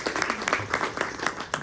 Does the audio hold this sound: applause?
yes